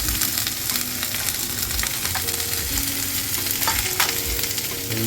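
Tomatoes sizzle and fry in a pan for paneer butter masala, with a spoon stirring through them in short repeated scrapes over a steady close crackle.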